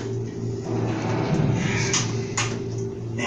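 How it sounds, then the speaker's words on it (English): Aft doors of a simulated time-machine ride sliding shut, a steady mechanical rumble with a couple of brief thuds and hisses near the end, heard alone at moderate volume. "I'm closing the aft doors."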